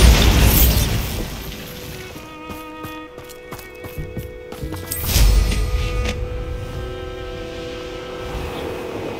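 A Bombarda explosion spell in Hogwarts Legacy goes off as a loud booming blast, followed by crumbling debris and clattering fragments, then a second rumbling burst. Game music and ambience continue underneath.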